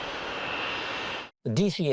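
A modified DC-8, a long-range narrow-body jet airliner, in flight: a steady broadband engine roar that cuts off abruptly near the end, followed by a voice speaking.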